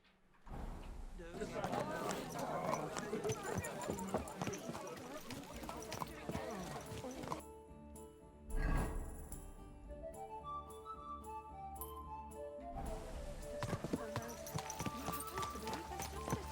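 Steady clip-clopping of horse hooves at a walking pace in the video game Kingdom Come: Deliverance 2, with people talking over it and a brief musical passage in the middle.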